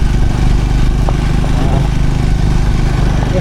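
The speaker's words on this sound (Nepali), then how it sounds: "यस्तो बाटोमा चाहिँ यो बाइकलाई कुदाउन चाहिँ एकदम मजा आउँछ" A motorbike ridden on a gravel road on the route from Kathmandu to Manang, its engine a loud steady drone mixed with constant wind rumble and faint crunches from the road.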